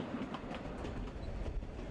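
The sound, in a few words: D&RGW narrow gauge train running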